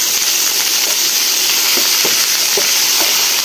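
Chopped potatoes hit hot oil already holding fried onions and chillies, giving a loud, steady sizzle with a few soft stirring knocks, close up and with no voices.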